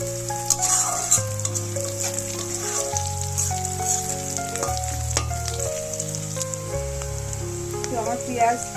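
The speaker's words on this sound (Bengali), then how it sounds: "আমার পেঁয়াজ চিংড়ি মাছ একসঙ্গে ভাজা করা হয়ে গেছে" Prawns and onions fry together in a pan for a prawn and ash gourd dish, giving a steady close sizzle that runs throughout beneath louder background music.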